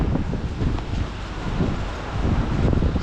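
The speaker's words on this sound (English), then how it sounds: "Jesus, windy." Wind buffets a microphone outdoors beside an old stock car, a loud, rumbling, gusting roar that swells and eases unevenly throughout, with no voices.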